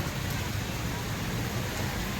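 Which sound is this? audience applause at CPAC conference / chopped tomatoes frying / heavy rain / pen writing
heavy rain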